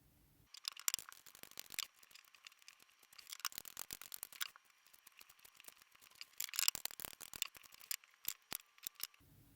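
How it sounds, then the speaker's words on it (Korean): Playing cards are riffled and shuffled in crisp, papery bursts of rapid flutter, with two longer shuffles and scattered short snaps between them, close and clear, no voices. "자, 그럼 셔플 해보겠습니다."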